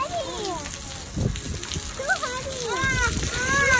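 Bagful of water dumped out by children in the rain, splashing in a few uneven bursts while kids chatter and call out over steady rainfall.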